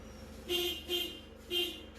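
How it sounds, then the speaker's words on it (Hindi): Three short car horn honks, evenly spaced, sound over a low idling engine, the horn working after a faulty clock spring was replaced. "हॉर्न चला के देखते हैं इसका।"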